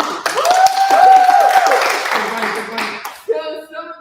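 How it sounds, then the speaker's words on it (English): Clapping from an audience at a spring students' union annual general meeting, a steady burst lasting a few seconds with a voice or whoop rising over it before speech takes over at the end. "Thanks for clapping."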